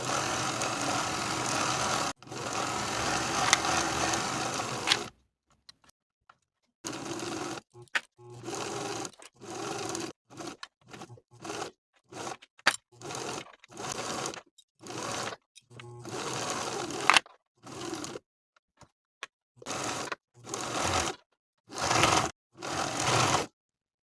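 A sewing machine stitches a cardigan seam, first in one long continuous whir, then in many short bursts separated by silent pauses, heard up close with no talk.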